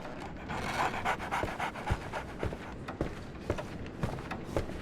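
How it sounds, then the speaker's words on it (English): A dog panting in the Sherlock Holmes: The Awakened video game, quick continuous breaths close by with faint taps and footsteps mixed in. "So, Barnes has a dog now."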